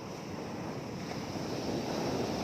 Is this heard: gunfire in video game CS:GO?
no